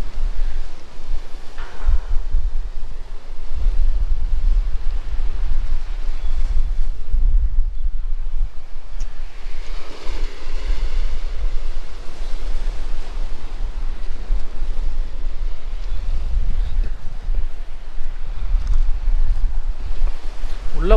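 Sea waves breaking on Pondicherry beach, a steady low roar of surf with wind buffeting the microphone throughout, swelling in surges rather than distinct separate crashes.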